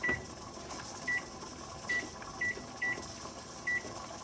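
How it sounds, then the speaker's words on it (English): A kitchen timer is set during pressure canning, giving six short, clear electronic beeps at uneven intervals over a low steady hiss of the canner in the background. "And now I can set my timer."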